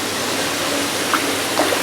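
Pond pump at a fish house drawing water from near the surface, a steady close rushing wash of circulating water with a couple of faint brief splashes, no voices.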